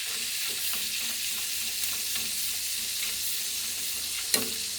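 Fat sizzles and fries steadily in a pan while sucuk is cooked, a dense, continuous crackle with an occasional louder pop near the end and no talk.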